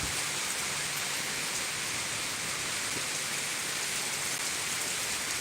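Heavy rain falls steadily in the mountains near Thurmond, West Virginia, a dense, even hiss of downpour with no letup and no voices.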